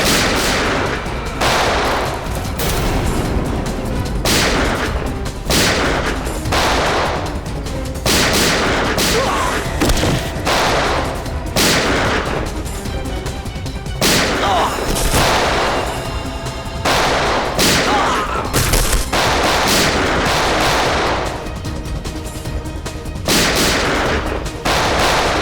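Gunfire rings out in a TV crime drama shootout involving CID officers: rapid bursts and single shots crack again and again, loud and close, with booming echoes filling the whole stretch.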